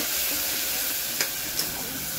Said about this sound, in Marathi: तो मसाला जरा तेलात नरम करून घ्या।